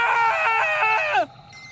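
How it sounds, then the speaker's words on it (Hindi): A loud, drawn-out scream rings out in a dark forest, a horror story effect with a wavering high-pitched cry that rises in pulses and then breaks off abruptly, leaving near silence. "जंगल से जोर से एक चीख निकली।"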